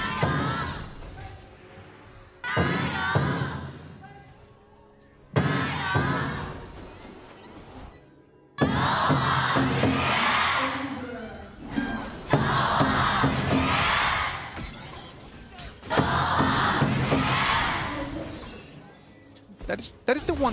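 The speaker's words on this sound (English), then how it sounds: "Let us hear the audience cheer for their teams." A large crowd at the 2025 KPL Grand Finals esports knockout stage cheers and shouts in loud bursts, separated by brief lulls, with voices rising together in waves of excitement.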